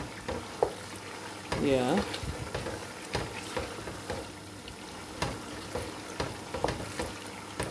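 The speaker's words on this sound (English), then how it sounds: "all I need to do is just to stir, give it a proper stir." Tomato paste for a turkey and mackerel fish stew frying in a pot, with soft sizzling and intermittent scraping stirs, fairly quiet and close; a voice briefly speaks.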